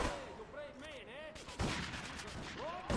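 Gunshots in the game GTA3, a few sharp blasts at about 1.6 and 2.9 seconds amid chaotic game noise, with a voice talking in between.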